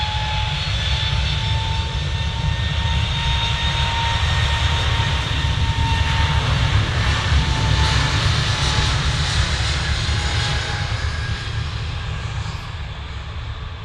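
British Airways jet taking off from Manchester Airport for a short hop to London Heathrow, a sustained, powerful jet engine roar with a high whine riding on top, steady and loud throughout before easing slightly at the end.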